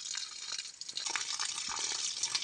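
Water gushes steadily from the end of a 2-inch irrigation hose fed from a mountain source, a continuous hissing, splashing flow that stays close and fairly loud throughout.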